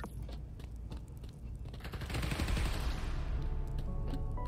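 Gunfire from enemies in the PS5 game Spider-Man: Miles Morales builds into dense, continuous automatic bursts, starting as scattered shots and swelling to a loud, sustained barrage over a few seconds.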